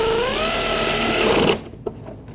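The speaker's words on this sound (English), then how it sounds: "Start these two in. Once you do, you should be able to let go and tighten these up." A loud, steady high-pitched whine from a power driver runs screws into the plastic splash shield on a Nissan Pathfinder and then stops abruptly, followed by a brief clatter.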